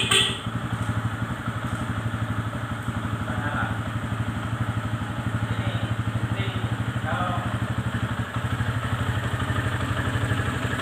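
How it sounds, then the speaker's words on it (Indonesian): A motorcycle engine, fitted with a side-stand alarm and engine-stop cutoff, runs at a steady close idle with an even rapid pulsing throb from start to finish, and a voice speaks faintly beneath it. "saya starter, dia seharusnya harus bisa menyala mesinnya. Coba saya starter."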